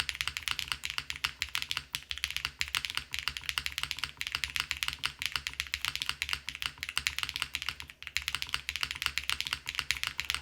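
Steady, fast typing on a Wuque Paper80 mechanical keyboard with mostly stock parts, dense clacking keystrokes close up, with no voices.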